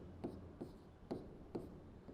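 Chalk or marker strokes on a board during a physical chemistry lecture on the kinetic theory of gases: faint, scratchy writing in short repeated bursts, about four strokes spaced irregularly, with no talking.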